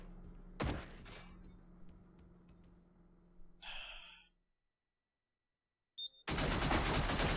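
Gunfire aimed at the player in the video game Receiver: a sharp burst near the start, a brief crackle midway, then a loud dense rush of noise after a short silence, with no talk.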